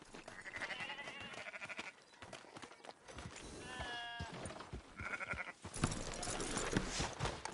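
Sheep bleat in Red Dead Redemption 2, with several distinct wavering cries scattered over a few seconds amid ambient game sounds and hoof clatter.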